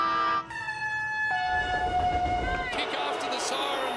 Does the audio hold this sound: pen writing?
no